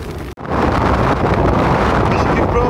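Strong early-morning wind at a fast-and-light wild camp: a loud, continuous roar buffeting the microphone, with a momentary dropout near the start, then steady gusting noise throughout.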